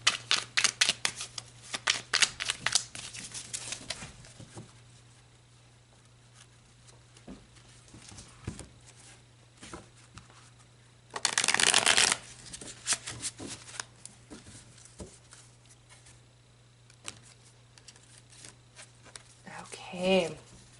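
Tarot cards are shuffled during a reading, with light rustles and flicks early on, then one loud, dense riffle burst of about a second midway, and a softer shuffle near the end, close and otherwise quiet.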